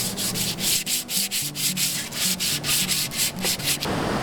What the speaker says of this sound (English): Now I'm going to hand sand the entire thing using 120 grit and then moving to 220 grit sandpaper.